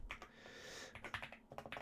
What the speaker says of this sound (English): You can probably hear my lovely mechanical keyboard tapping away